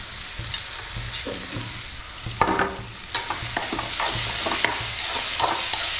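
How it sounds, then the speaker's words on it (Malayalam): Ginger, garlic and green chilli sauté in a pan, with a steady oily sizzle and repeated spatula scrapes and taps against the pan, close and clear. "അതിന് ശേഷം നന്നായി വഴറ്റി കൊടുക്കാം"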